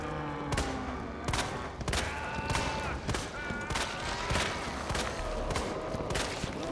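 Steady gunfire in Resident Evil 2 Remake, a run of roughly a dozen sharp, evenly spaced shots against a dense background of game music and effects.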